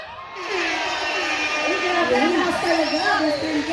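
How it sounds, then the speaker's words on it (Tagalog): A rally crowd in the Philippines cheers and shouts loudly and steadily, with whoops and mixed voices filling the air throughout. "Pwede bang marinig ulit ang inyong sigawan mga kababayan?"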